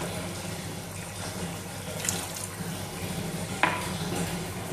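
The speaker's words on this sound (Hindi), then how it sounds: "इसके अंदर 1 ग्लास पानी डाल देंगे।" Water from a glass poured into a pan of chicken achari chana dal on the stove, a soft continuous wash of splashing liquid with a couple of small clinks against the cookware.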